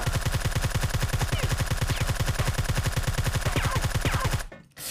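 Rapid automatic fire from the Scar Light-S BaiHu rifle in CrossFire, a long steady burst of evenly spaced shots that stops abruptly near the end.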